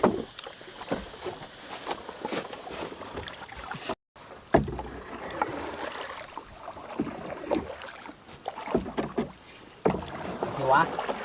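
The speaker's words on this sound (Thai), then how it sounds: "เราจะพายเรือไปนะ" Paddles dip and splash as a small rowboat is paddled on water, irregular strokes close to the microphone, with wind noise and people talking now and then.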